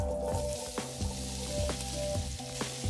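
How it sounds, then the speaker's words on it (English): Vegetables sizzle and fry steadily in a Dutch oven after meat has been browned in it, with scattered stirring clatters and scrapes over a continuous close hiss, and no talking. "Add the vegetables to the Dutch oven."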